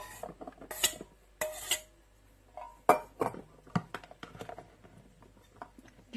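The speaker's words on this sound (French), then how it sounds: "Je vais bien mélanger." Octopus being tossed with chopped parsley in a bowl, giving scattered clinks and scrapes of utensils against the dish, moderately close, with short bursts and pauses in between.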